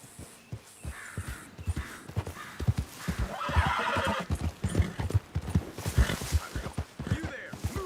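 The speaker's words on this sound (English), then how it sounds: "That's a fine horse you got there." Horse hooves clip-clop in a steady walking rhythm while a horse whinnies loudly midway, set in the Red Dead Redemption 2 video game, with close, clear steps throughout.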